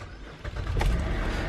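A Chevy Traverse engine starts, a short crank that catches into a steady low idle, close and alone.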